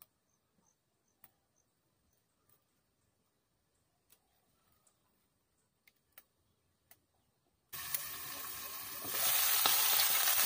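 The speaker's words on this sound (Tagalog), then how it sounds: "tunawin lang natin yung taba ng ating manok" Chicken fat melting in a pan over an outdoor cooking fire, a broad sizzle that bursts in suddenly after near-silence with scattered faint ticks and swells louder toward the end.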